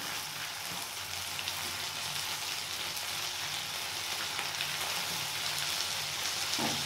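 Onion and garlic paste frying with koi fish in a pan, a steady hiss throughout, overlaid with a low hum and a faint stir near the end.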